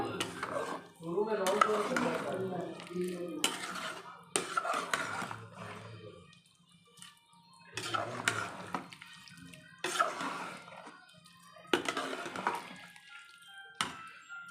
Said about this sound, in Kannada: ಚೆನ್ನಾಗಿ ಮಿಕ್ಸ್ ಮಾಡ್ಕೋಬೇಕು